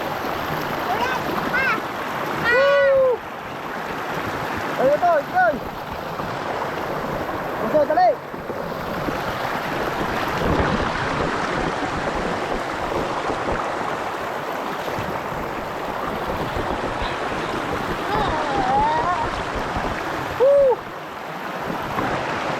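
River water runs steadily throughout while people bathe and splash, with voices shouting and chattering over the continuous broad wash of the current.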